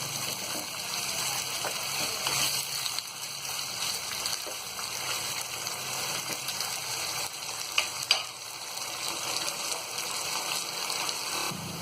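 Sliced onions frying in a pan to golden brown for mutton haleem, a steady close sizzle running throughout with a couple of faint clicks of a utensil and no voices.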